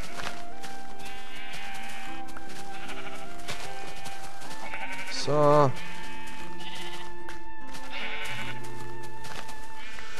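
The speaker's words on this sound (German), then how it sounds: "Wieso rennt das rote Schaf gerade Weg draußen rum, hä?" A sheep bleats briefly in the video game Minecraft, a short wavering cry about midway through, heard over background game music while a person talks.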